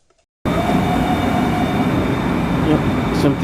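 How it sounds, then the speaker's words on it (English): A Long Island Rail Road train leaving Lindenhurst toward Babylon rumbles loud and steady from inside the car after a brief near-silence, with a constant roar and a faint high whine. "a smooth ride for these people on the 536 from Penn Station as it leaves Lindenhurst and heads toward Babylon"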